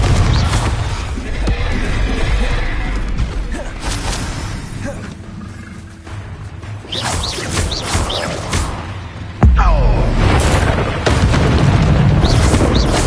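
Explosive Confringo spell blasts in the video game Hogwarts Legacy, a dense run of booming impacts and roaring bursts amid continuous combat noise, with a sharp loud blast near the end.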